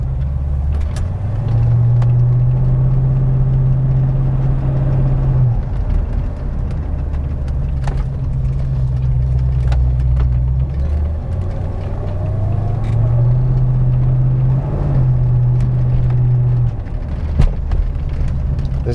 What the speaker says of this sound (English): This is actually the first time this car has been driven any distance at all in at least 2 years